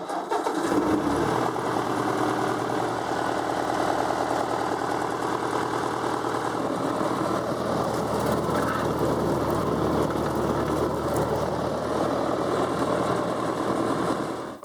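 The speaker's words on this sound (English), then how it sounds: "fire up the tractor" A tractor engine cranks and catches, then runs steadily at a loud, close idle for the rest of the time with no talking.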